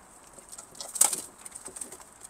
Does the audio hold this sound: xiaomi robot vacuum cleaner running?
no